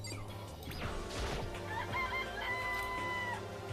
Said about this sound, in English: Oh, I can check each individual chicken.